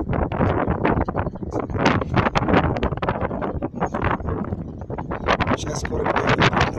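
Cold wind in Kuzbass, Russia, buffets the microphone with a rough, gusty rumble while someone talks outdoors.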